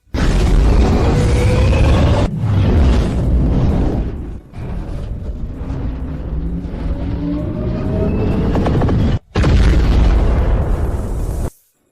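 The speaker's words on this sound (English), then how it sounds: "Main cannon charged, fire." A heavy main cannon fires with a loud booming blast, followed by a sustained rumbling explosion and then a second powerful burst near the end, all close and dominating with no talk.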